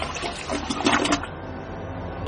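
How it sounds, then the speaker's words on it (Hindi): Bathroom toilet flush used as a horror-story sound effect, a close rushing gush of water that swells and fades over a couple of seconds, ending with a sudden loud thump. "थोड़ी ही देर में बाथरूम का फ्लश भी चला"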